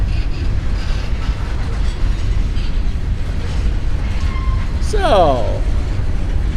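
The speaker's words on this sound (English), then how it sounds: "ACE leading this train into the yard. As he passes by us." An SD70ACE-led Union Pacific freight train rolls into a Norfolk Southern rail yard in Chattanooga with a loud, steady rumble and clatter of wheels, while a voice speaks briefly and wheel squeal rises near the end.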